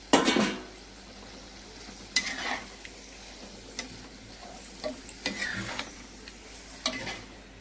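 Spoon stirring and scraping tomato and spice masala sautéing in a clay wok, with intermittent clacks and scrapes against the pot over a faint sizzle.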